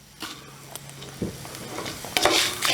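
Red chillies and curry leaves fry in a pan with a light crackling sizzle, punctuated by several scraping stirs and clinks that grow a bit louder toward the end; no speech.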